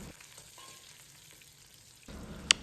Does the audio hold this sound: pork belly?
yes